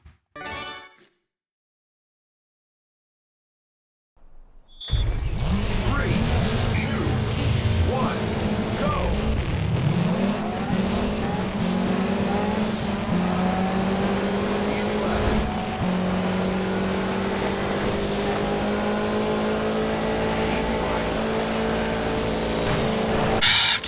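A Lancia Delta rally car in Sega Rally Revo starts up after a brief near-silence, then its engine drones and revs loudly and continuously with rising and falling pitch sweeps as gears change.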